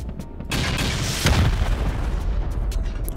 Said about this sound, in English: Let's hope we can squeeze off a few of these rockets and we'll finish it off with C4.